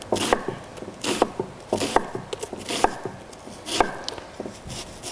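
Knife chopping an onion on a cutting board: a steady run of sharp, close taps with an irregular rhythm, alone and with no talk.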